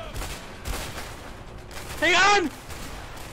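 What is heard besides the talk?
gunfire from guards shooting in video game A Way Out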